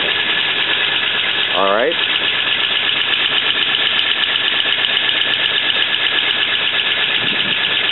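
A 1941 Ford Super Deluxe two-door sedan engine runs steadily and loud throughout, a brief voice cutting in early over the continuous mechanical drone.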